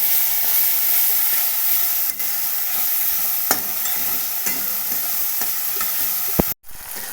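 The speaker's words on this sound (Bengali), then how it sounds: "বাটাগুলো দিয়ে দেবো সব মশলাগুলো একসঙ্গে কষিয়ে নেবো" Ground spice paste stirred and fried in hot oil in a pan for a Bengali pangas fish curry, a steady continuous sizzle with occasional scraping stir strokes, close and loud, briefly cutting off near the end.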